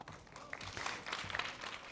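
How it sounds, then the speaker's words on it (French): Audience applause at a cybersecurity regulation panel event, a dense, steady patter of many hands clapping at moderate loudness, sustained throughout with no voices over it. "On peut l'applaudir."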